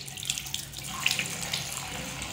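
Tap water runs steadily into a sink while someone washes face and hands, a close, hissing splash with small irregular splatters and no talk.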